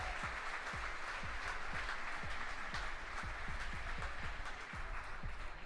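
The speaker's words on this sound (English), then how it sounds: "You hear the applause from the team gathered around Mission Control Center here in Hawthorne." The team gathered at SpaceX Mission Control in Hawthorne applauds after a Falcon 9 fairing separation. The clapping is steady and sustained, sounds distant and faint, and runs the whole time with a low rhythmic thump beneath it.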